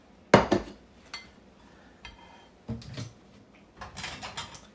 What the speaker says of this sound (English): I'm going to try to put this out in a bowl now.